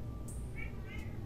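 A house cat meows twice in quick succession indoors, the calls fairly close and clear over a low background hum, with no speech during the calls.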